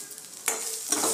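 Dried chillies, shallots, garlic and ginger sautéed in a pan for a murungai keerai soup, a soft sizzle with two brief stirring scrapes, close and quiet.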